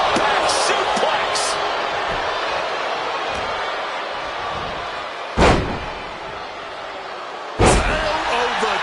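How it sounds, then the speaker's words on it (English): Two heavy body slams onto the ring mat in the WWE 2K26 wrestling game from a deadlift back suplex, sharp booming impacts a couple of seconds apart over a steady arena crowd roar. "Deadlift back suplex."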